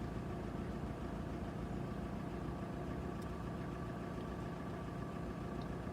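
A 2007 PT Cruiser engine idles at 900 RPM, giving a steady, even drone with no change throughout.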